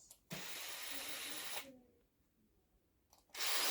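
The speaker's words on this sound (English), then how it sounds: "I'm just going to use the same drill bit I used for the screw real quick." A power drill runs in two loud, steady bursts, the first long and the second starting near the end, while drilling a hole in an RC car part during an SCX24 motor install, with a quiet pause between them.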